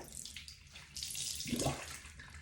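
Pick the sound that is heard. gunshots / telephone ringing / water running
water running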